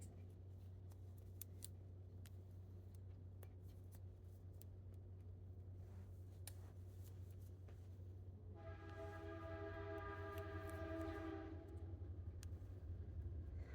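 A train rumbles steadily in the distance, then its horn sounds with a sustained, layered tone for a few seconds before fading back to low rumble.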